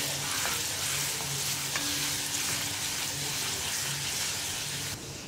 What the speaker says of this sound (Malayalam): ഞാനിതുപോലെ കുറച്ച് കുറച്ചായിട്ട് എണ്ണയിലേക്ക് ഇട്ടിട്ട് ഫ്രൈ ചെയ്യാണ്